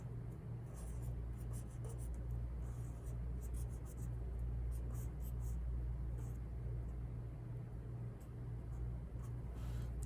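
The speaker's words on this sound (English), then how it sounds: "I used to draw them something like this" A pen sketching a simple monster truck on paper, steady scratchy strokes running almost continuously and close up, with a low hum and a faint rumble beneath.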